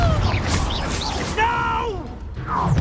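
A Confringo spell blast in the video game Hogwarts Legacy, a crashing burst and whooshing impact among busy game effects, with voices speaking over the action.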